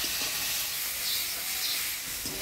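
Crushed garlic and a ground paste of coriander, cumin, ginger, dried chili, turmeric and salt sizzle and hiss loudly in a hot pan, a dense continuous frying sound with faint stirring scrapes.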